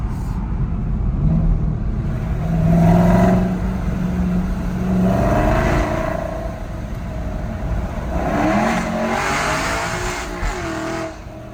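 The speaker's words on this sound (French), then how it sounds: "Tu te rends compte comment il gueule ce putain de moteur?" A powerful car's engine roars and revs loudly inside a small tunnel, the sound swelling and echoing in several surges across the clip, with faint voices underneath.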